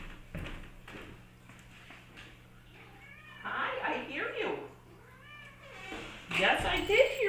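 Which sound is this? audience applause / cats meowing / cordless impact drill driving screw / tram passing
cats meowing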